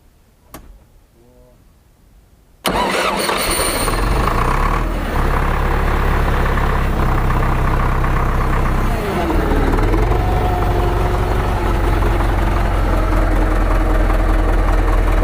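A YuMZ-6 tractor engine, converted to an electric starter in place of its pony starter, cranks briefly after a few soft clicks, then catches and runs loudly and steadily, with a deep, close diesel rumble throughout.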